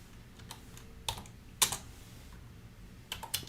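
Light, irregular keystrokes on a computer keyboard, a few scattered taps followed by short clusters of clicks, close and fairly quiet against a faint background hum, with no talking.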